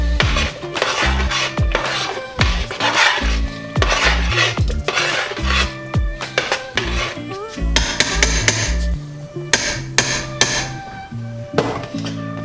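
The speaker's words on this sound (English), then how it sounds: "We're going to put our bacon back in there. We'll stir that in." Bacon being stirred into venison chili in a pot, with a spoon scraping and clanking against the metal in steady, repeated strokes, loud and close, and no voices over it.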